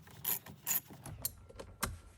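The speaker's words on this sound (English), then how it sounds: "these are the correct bolts as I'm loosening the airbag's mount" Airbag mount bolt being loosened on a Cadillac CT4/CT5 V Blackwing steering wheel, a few separate ratcheting clicks and short metallic turns in uneven bursts, close and fairly quiet, no talking.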